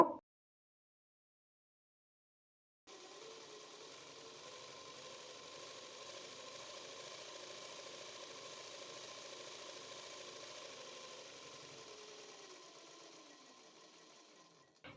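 Sewing machine running a long continuous stitch on lehenga blouse lining fabric, a steady close motor whir after a short silence, stopping near the end, no voices.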